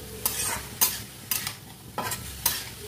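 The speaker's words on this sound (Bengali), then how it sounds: "এবার দিয়ে দেবো টমেটো।" Chopped tomatoes are stirred into chicken Hakka noodle vegetables frying over high heat, with a steady sizzle and several sharp spatula scrapes against the pan at an even rhythm, close and clear with no talk.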